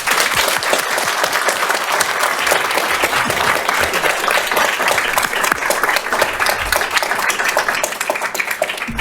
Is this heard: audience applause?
yes